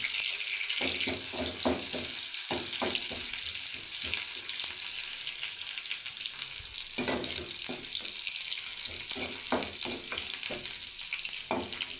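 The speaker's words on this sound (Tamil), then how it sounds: "வெங்காயம் நல்லா வதங்கினதும் கருவேப்பிலை நல்லா வதங்கிடணும்." Onions and curry leaves sautéing in a pan for a plantain stir-fry, a steady close sizzle running throughout with scattered stirring scrapes and clinks, no voices.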